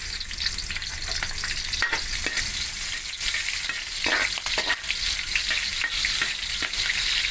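Chopped onion sizzling in hot oil in a wok-style pan, a steady loud hiss with intermittent scraping stirs and clanks throughout, no voices.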